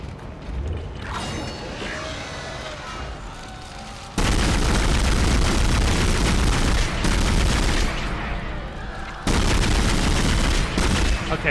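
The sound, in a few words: line gun firing in Dead Space video game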